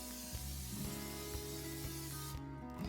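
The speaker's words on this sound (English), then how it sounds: "Take a large skillet and spray lightly with non-stick cooking spray." Non-stick cooking spray hisses into a large skillet in a continuous close spray lasting a few seconds, with a faint low hum beneath.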